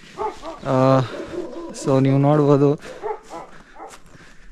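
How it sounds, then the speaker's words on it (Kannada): Dogs in a small, quiet village near Saint Petersburg, Russia, give out long drawn barks or howls, two sustained calls close at hand, while someone talks between and over them. "ಬಟ್ ನಾಯಿ ಮಾತ್ರ ಬೊಗಳ್ತಾ ಇದ್ದಾವೆ."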